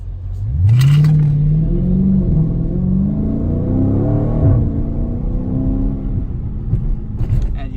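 A Dodge Challenger Scat Pack Shaker accelerates hard with a deep, loud V8 rumble as revs climb and drop through quick gear shifts, heard close from inside the car.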